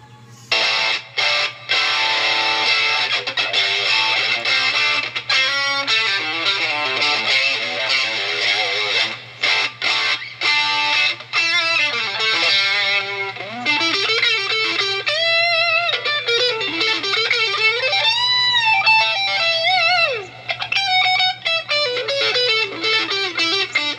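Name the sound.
Telecaster electric guitar with distortion effect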